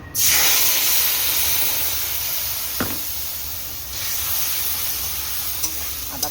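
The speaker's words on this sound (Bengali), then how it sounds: "এখানে আদা কাঁচা লঙ্কা বাটাটা তেলের মধ্যে দিয়ে দেবো" Ginger and green chili paste hits hot oil with a loud initial hiss that settles into a steady, close sizzle and spatter, broken by a few faint clinks, with no voices.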